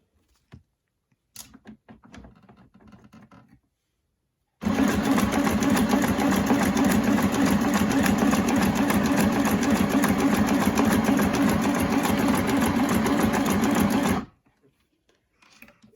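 A sewing machine runs in one long, loud, steady burst of stitching lasting about ten seconds, preceded by quiet handling clicks with the presser foot and handwheel.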